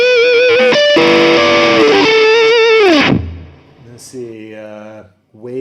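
Electric guitar run through a Kemper profiling amp's hard shaper effect, a harsh bit-crunching distortion, plays sustained buzzing notes for about three seconds before cutting off, followed by quieter, cleaner tones.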